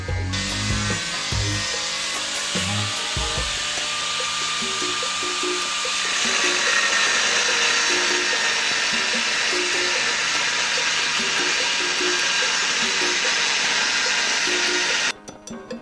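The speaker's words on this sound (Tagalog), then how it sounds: "Sa pag-grind ko po, gamit ko po ay powerhouse angle grinder 900 watts." A Powerhouse 900-watt angle grinder grinds rusty steel clean before welding, giving a loud, continuous high-pitched whine and abrasive hiss that holds steady for about fifteen seconds before cutting off abruptly.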